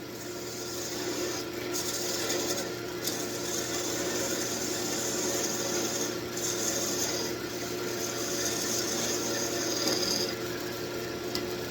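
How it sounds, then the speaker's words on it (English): Parting tool cutting into a wooden ornament spinning on a wood lathe, giving a steady, close rasping scrape that holds for the whole stretch with only brief dips as the tool eases off. "Okay, parting tool."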